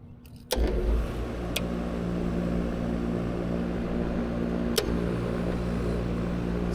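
A York commercial rooftop HVAC unit kicks on after being jumped, a sudden click followed by a steady, loud fan and compressor hum that continues evenly, with a couple of sharp clicks along the way.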